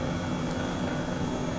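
An Airbus H135 helicopter engine in a flight simulator game, giving off a steady, close, dense turbine whine and rotor rumble with no breaks.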